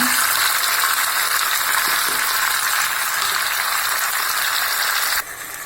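Tomatoes sautéing with salt in a pan give a steady, fairly quiet hiss of frying that runs evenly throughout, with no talking over it.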